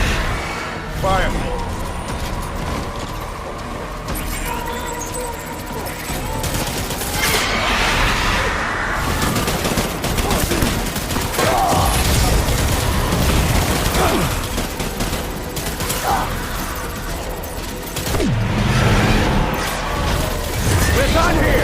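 Gunfire in the video game Death Stranding, dense bursts and rattling volleys with booms mixed under shouting voices, loud and continuous throughout.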